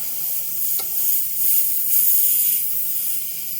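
Paint hisses steadily from a sprayer or airbrush, directed off the edge of the surface while photorealistic feathers of a male cardinal are painted; a continuous close, fairly loud spray.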